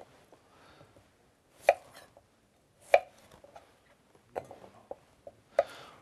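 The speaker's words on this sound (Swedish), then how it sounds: "Och sen så ska vi bara skära ner de här jordärtskockorna i lite mindre bitar." A kitchen knife chops Jerusalem artichokes into small pieces on a board, giving a handful of sharp, separate cuts at irregular spacing with quiet gaps between them, close and alone.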